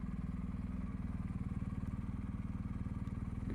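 Steady engine drone and rhythmic exhaust pulse from a new 2021 BMW R1250GS Adventure boxer-twin motorcycle being ridden, loud and continuous with no talk.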